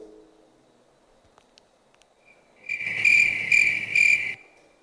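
Crickets chirp in steady pulsing bursts, loud and close, after a quiet stretch with faint background hum.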